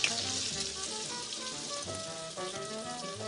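Three slices of prosciutto fry crisp in a hot pan, giving a steady, bright sizzle with fine crackling pops throughout, close and continuous with no talking.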